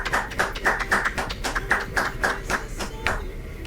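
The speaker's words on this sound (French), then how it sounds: "Un tonnerre d'applaudissements pour lui." An audience at a campus student event claps in loud, rhythmic bursts, the sharp handclaps landing in a rapid, fairly regular beat that runs throughout, with no clear speech over them.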